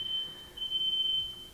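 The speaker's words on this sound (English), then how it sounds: "That's our fire alarm with being tested." A building fire alarm under test gives a steady high electronic tone that cuts out briefly and returns, sounding at moderate level inside a quiet room.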